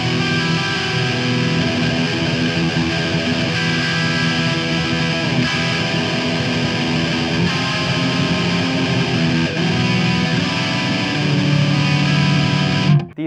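Big open chords with ringing open strings on a distorted electric guitar through a Marshall Valvestate amp, loud and sustained for about thirteen seconds before cutting off abruptly, with no talking.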